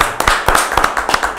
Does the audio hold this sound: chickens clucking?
no